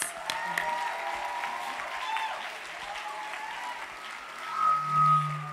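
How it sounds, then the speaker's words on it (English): Audience applause at a Women's Day breakfast, a steady wash of clapping throughout with tonal musical notes sounding beneath it and a low hum rising near the end. "Let's give Carina another round of applause"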